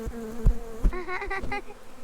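Honeybees trapped in a microphone buzz right against it during a spring backyard hive inspection, loud close whining that bends in pitch, broken by several thumps as they knock into the mic.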